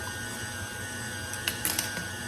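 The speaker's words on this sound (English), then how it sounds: "I'm just going on with my mixer." Electric stand mixer running on its lowest speed through peanut butter cookie dough, a steady mechanical hum with a few sharp clicks and rattles near the end, close and with no talking.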